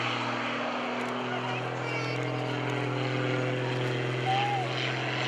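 A carbon-fiber aerobatic propeller airplane at an airshow drones steadily overhead with a constant engine hum and harmonic tones, loud and continuous throughout.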